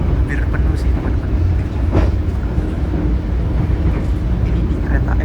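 A steady low rumble fills the interior of an economy class passenger train car, with faint clatter and muffled voices of passengers mixed into the continuous rolling noise.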